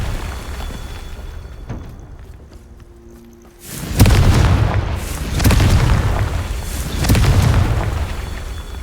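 A Confringo blasting spell in Hogwarts Legacy fires with a short whoosh and bursts into a deep, loud explosion, followed by further rumbling booms that roll on for several seconds.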